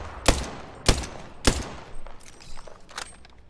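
Gunfire in the video game Apex Legends: three loud, evenly spaced shots up close, followed by a scatter of softer, more distant shots and small clicks.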